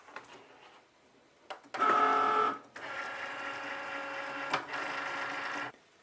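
A Cricut Maker cutting intricate vinyl on a strong grip mat gives off a steady mechanical whir with a louder burst of motor drive near the start, then a sustained buzzing run that stops near the end, with no voices.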